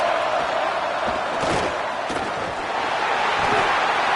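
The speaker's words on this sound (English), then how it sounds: "Listen to this crowd just shaking the girders of this place trying to help their defense." A packed college football stadium crowd roars loudly and continuously as fans try to rattle the opposing offense late in a game with Florida, a dense, thick wall of cheering with a couple of sharper bursts.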